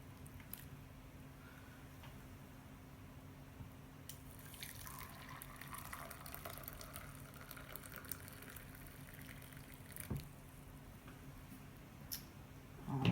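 Steady hot water pouring and trickling from a large kettle into a vessel, with faint drips and splashes over a soft continuous hum, ending in a brief louder clatter.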